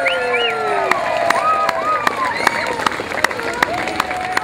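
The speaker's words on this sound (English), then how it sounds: "a huge round of applause for Snoopy and the Peanuts characters." A crowd applauds and cheers for Snoopy and the Peanuts characters at a Cedar Point 60th-anniversary celebration, a steady wash of clapping and voices with some sharper claps and shouts standing out across the clip.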